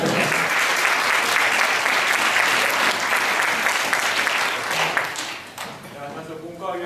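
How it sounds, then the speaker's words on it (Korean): A seated audience applauds at a Korean medicine college briefing session: steady, loud, full-room clapping that holds for several seconds before thinning out toward the end. "만약에 더 진행되기를 원하시면 박수 치주시면 진행하겠습니다."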